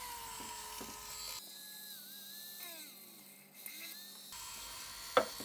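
A small drill with a 1 mm bit bores a tiny hole in the side of a tin can, giving a steady high whine for about three seconds, with faint scraping clicks before and after.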